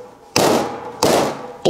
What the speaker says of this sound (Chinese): 再把蹄子砍开